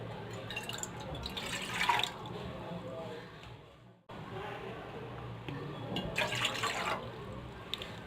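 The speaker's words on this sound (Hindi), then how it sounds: "2 कप पानी डाल दूंगी मैं इस वाले कप से।" Water poured from a cup into a pan while making a Hindi-style herbal kadha with tulsi, black pepper and honey; a steady splashing, trickling stream in two long pours, heard up close in a home kitchen.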